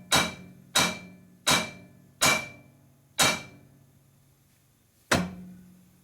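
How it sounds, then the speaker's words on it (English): Hammer blows on a 2005 Harley-Davidson Sportster XL 1200 cylinder head during a rebuild, six sharp ringing metallic strikes, five in a steady rhythm and a final one after a pause, close and loud. "That hammer again."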